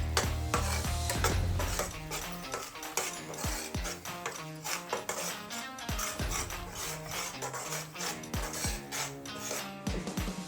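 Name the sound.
gram flour being roasted and stirred in a pan on low flame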